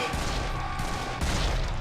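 Dense gunfire and explosions in the video game Serious Sam 3: BFE, loud overlapping bursts and booms packed into under two seconds with no clear voices.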